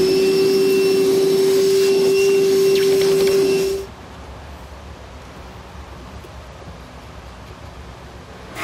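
A loud vacuum cleaner whines steadily for a few seconds, then shuts off abruptly, leaving only a quiet room hum.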